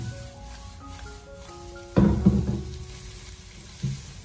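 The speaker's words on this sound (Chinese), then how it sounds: "我们再继续的给它翻炒几下，大概翻炒个半分钟左右，让所有食材的味道充分的融合在一起" Chives and egg being stir-fried in a wok, a soft sizzle with scraping stirs and a louder toss partway through, heard over quiet background tones.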